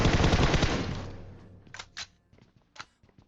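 PUBG Mobile gunfire: a loud, rapid automatic burst for over a second, then a few separate sharper shots that fade into quieter background.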